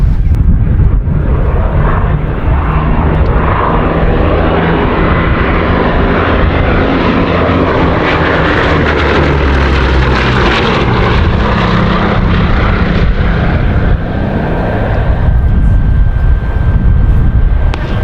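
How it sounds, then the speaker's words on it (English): An Avro Anson Mk1 and Bristol Blenheim fly past at an air show, their loud propeller roar steady overhead, a deep droning engine rumble that swells and lingers for the whole pass with some wind buffeting. "Just the one pass, but what a superb one from the Anson and the Blenheim."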